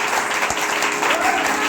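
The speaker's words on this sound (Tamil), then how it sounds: "கரகோஷம் மட்டும் கேட்டால் போதும்." Students at a music college function in Thiruvaiyaru applaud, a dense, steady burst of clapping from a crowd that fills the room.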